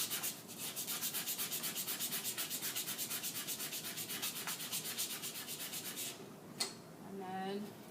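A hand rubs 220 grit sandpaper over metal in fast, even back-and-forth strokes, a close rhythmic scratching that stops near the end, followed by a clack and faint sounds of handling.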